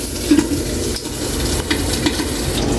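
Pork fat rendering in a hot pan gives a steady, loud sizzle and crackle, with a few faint stirring scrapes over the continuous frying.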